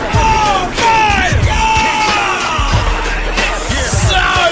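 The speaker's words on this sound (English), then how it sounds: "please give a warm, hormonal shriek for the sizzling hot Alex Baker" A studio crowd on a radio show shrieks, yells and cheers loudly for the host in a continuous burst of excited, high-pitched voices.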